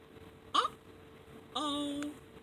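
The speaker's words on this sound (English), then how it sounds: "Minnie still has the hiccups." A cartoon character hiccups twice, a short squeaky hiccup followed by a longer drawn-out one, loud and alone over a quiet background.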